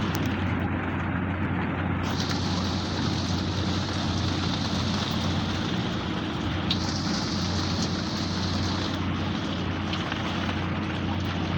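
Heavy rain pours at Galachipa ferry ghat, a steady, unbroken hiss of drops on surfaces with a low rumbling hum beneath and no one speaking.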